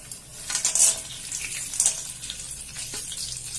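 Peanuts frying in hot oil with cumin in a pan, a soft continuous sizzle with brief louder crackling bursts, fairly quiet and close, with no talking.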